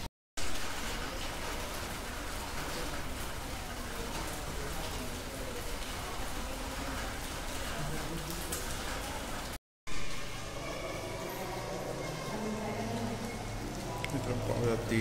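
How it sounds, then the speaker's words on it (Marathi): Light rain falls steadily outdoors near a misty hillside temple, a continuous soft hiss of drops on surfaces that runs through with a brief break, joined by a faint low hum near the end. "पाऊस पडतो हलकासा"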